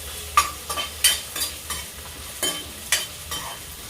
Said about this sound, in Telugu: చూడండి లైట్గా వేగాయి పచ్చిమిరకాయలు అన్నీ